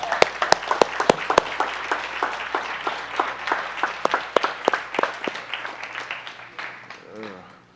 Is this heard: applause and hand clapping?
yes